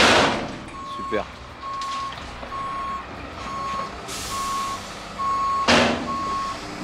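A truck reverses at a muddy site, its backup alarm sounding a regular run of evenly spaced beeps over engine rumble, with sharp air-brake hisses and a voice speaking in the background.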